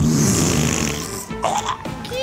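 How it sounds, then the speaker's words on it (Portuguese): Fart noises in GTA 5 gameplay, a dense buzzy burst at the start and a few shorter squelchy blasts after, loud and close, with speech mixed in. "Ele tá peidando a rodo."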